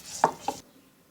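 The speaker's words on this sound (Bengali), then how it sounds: "এবার আমি কয়েকটি ধনেপাতা বেটে নিব।" Two quick, sharp pounding strikes from grinding coriander leaves into a paste for a bottle gourd leaf mash, close and alone, followed by silence.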